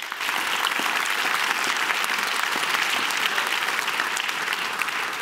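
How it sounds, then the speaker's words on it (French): Steady, dense audience applause at a live stage show, an evening performance by apprentice performers, sustained and even throughout without voices. "Et ça s'applaudit."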